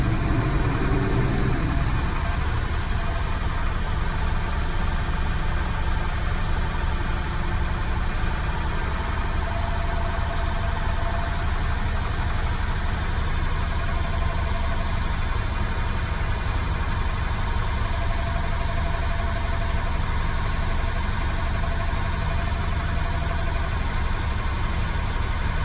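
A truck engine idles steadily throughout, running to build air brake pressure in the cab, a loud, constant low rumble with no talk.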